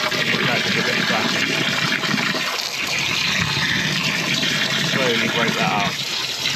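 Water poured to flush a blocked drain, a chamber choked with paper near a blocked toilet, gushes and splashes steadily and loudly throughout, with a voice faintly under the rushing flow.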